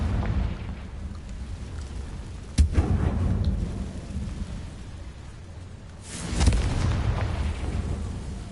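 The Confringo blasting curse in Hogwarts Legacy sets off two booming explosions a few seconds apart, each a loud, deep burst that rolls away into a rumbling tail over a steady background hum.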